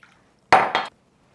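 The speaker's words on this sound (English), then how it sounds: "We're going to set it inside a bowl of hot water." A container holding leaves soaking in rubbing alcohol is set into a bowl of hot water, making a short, close clink and clatter of dishware in two quick knocks, then quiet.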